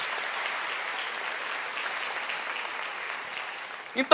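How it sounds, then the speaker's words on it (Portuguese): A church congregation claps in a steady, moderately loud wash of applause during a sermon, ending with a voice cutting in as the clapping fades. "Você pode aplaudir o Senhor?"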